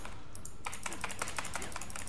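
Computer keyboard keys tapped during a Metal Gear Rising Revengeance session, a quick flurry of close, crisp clicks over steady background hiss, after a brief quieter start.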